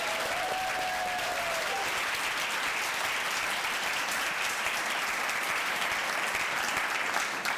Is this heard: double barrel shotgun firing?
no